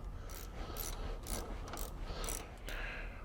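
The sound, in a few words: axle shaft sliding into Ford 8.8 rear end housing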